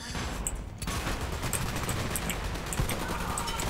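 Rapid bursts of Tech 9-style SMG fire in the game Dirty Bomb, a dense fusillade of clipped shots rattling continuously at moderate loudness, with a brief lull near the start.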